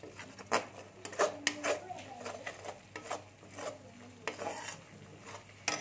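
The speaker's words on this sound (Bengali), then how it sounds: "দিয়ে আমি একটু মশলাটা কষে নেবো। এই দেখুন আমি মশলাটা কষছি।" Ground coriander and cumin masala sautéed in a pan for restaurant-style matar paneer: a soft, low sizzle under repeated spoon scrapes and clinks against the pan, close and uneven in rhythm.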